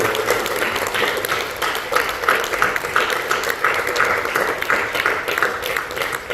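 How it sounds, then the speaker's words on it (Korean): An audience applauds steadily at a university's 30th-anniversary thanksgiving service and graduation ceremony, right after a plaque presentation: a dense, continuous wash of many hands clapping that holds an even level throughout. "박수해 주세요"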